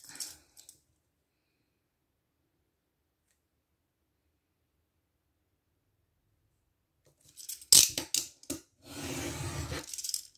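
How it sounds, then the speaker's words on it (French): Scissors trim a millimetre off paper in a few quick snips, close and crisp: a short click at the start, a long silence, then a cluster of sharp cuts and rustling near the end. "je vais venir couper un petit millimètre"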